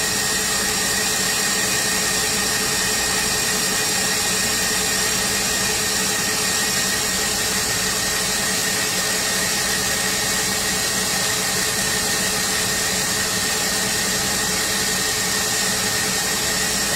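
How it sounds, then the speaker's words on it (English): An electric mixer whips butter and sugar for a vanilla sour cream pound cake, a constant loud whirring hum that holds steady throughout, nearby and with no one speaking. "making sure you whip your butter, and your sugar"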